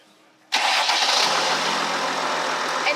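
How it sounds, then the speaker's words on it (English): A Mercedes-Benz Sprinter 4x4 overland camper van's engine catches and settles into a loud, steady, close idle roar after a brief quiet moment. "All you have to do is turn on the engine of the car."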